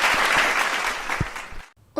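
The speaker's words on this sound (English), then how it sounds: "A big round of applause, please." Applause at an investor relations awards ceremony after a winner is announced, a dense wash of clapping that holds for over a second and a half, then cuts off into near silence.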